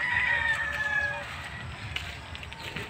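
Chickens at a coop, with a rooster crowing loudly near the start and scattered clucks afterward, heard up close outdoors.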